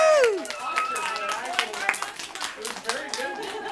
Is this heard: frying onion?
no